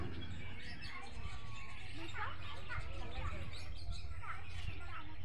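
Birds of assorted colours in a zoo aviary in Guwahati chirp and tweet in short, scattered calls against a steady background hum and faint crowd noise.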